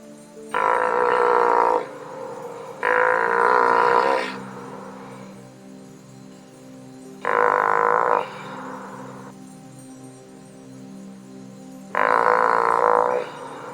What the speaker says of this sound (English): a very vocal seal loudly and persistently objects to our presence